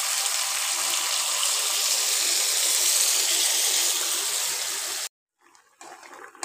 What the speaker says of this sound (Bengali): এবারে আমি এখানে জল দিয়ে দেবো